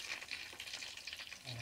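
Tilapia frying in a pan gives a soft, steady crackle and sizzle with scattered pops, fairly quiet and close, with no voices.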